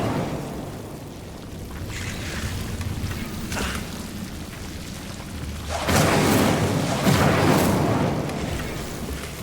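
A burst of Incendio fire spell from Hogwarts Legacy, a loud whooshing roar of flame that swells partway through and holds strong before easing, with no talking.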